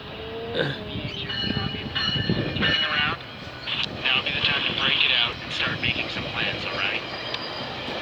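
A VIA passenger train rolls through the GO station at Burlington, Ontario, a steady rumble and rail clatter with squealing wheels and a brief horn, while a person talks nearby over the passing train.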